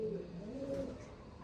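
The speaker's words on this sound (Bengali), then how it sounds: "তো দেখতে পাচ্ছেন পায়রা" Andhra pigeons give soft, low cooing in a short burst, close but faint, over a quiet background with no talk.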